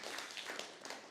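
A church congregation applauds together, a dense wash of many hands clapping at a steady level throughout, with no speech over it.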